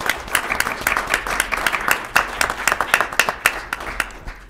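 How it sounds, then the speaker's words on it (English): Applause at a city council meeting welcoming a new city manager, a modest group clapping in a room with individual claps clearly audible, steady throughout and without speech. "Let's all give her a round of applause."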